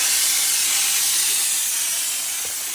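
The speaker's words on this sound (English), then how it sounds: "I'm just going to blow the rest of it out, dry steam." Chief Steamer 155 220V steam cleaner blasting dry steam during auto detailing, a loud, steady, close hiss that holds without a break and fades slightly at the end.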